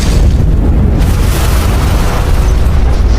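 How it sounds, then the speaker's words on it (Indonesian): A loud, deep explosion booms and rolls on as a sustained low roar, with heavy rumbling filling the whole moment. "Namun tiba-tiba bom meledak"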